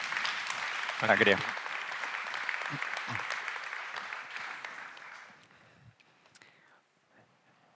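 An indoor audience at a German-language marketing session applauds a speaker, a burst of clapping that fades out over several seconds while someone briefly says thanks on top of it.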